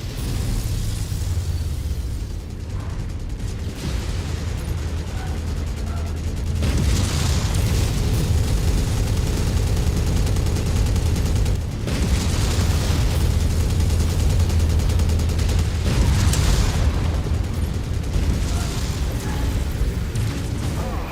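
Heavy explosions rip through a warehouse in MechWarrior 5, a loud, sustained rumbling barrage of booms with bursts swelling and repeating over about twenty seconds, no voices.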